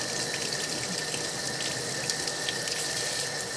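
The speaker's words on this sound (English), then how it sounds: "So I like to give it a nice warm rinse." Warm water runs steadily from a tap while farm fresh eggs are rinsed at a sink. The stream is a constant close hiss that never breaks, with no voices.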